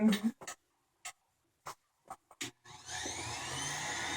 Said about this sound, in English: And I'm going to use my hairdryer.